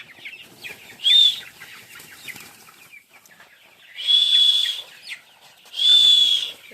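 Chickens being moved into a larger farm shed squawk and cluck in three loud, shrill bursts, separated by quieter scratchy pauses, close by.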